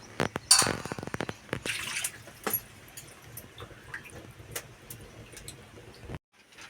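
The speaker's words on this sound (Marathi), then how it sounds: "कापल्यानंतर पुन्हा आम्ही एक वेळेस पाण्याने चांगले धुवून घेणार आहोत" Cut tilapia pieces rinsed in water in a village kitchen: irregular splashes, drips and clinks of fish and vessel, strongest early then sparser and quieter, ending in near silence.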